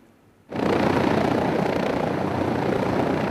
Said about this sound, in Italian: È stato l'elicottero del SUEM che intorno alle 16:30 l'ha individuato dall'alto